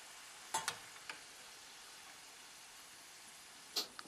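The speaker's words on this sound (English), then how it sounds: "It says to deep fry these 4 to 6 minutes" Curly potato fries deep frying in oil, made with a vintage 1990s Presto Tater Twister spiral cutter, give a steady soft sizzling hiss throughout, with a few brief louder crackles and pops near the start and end.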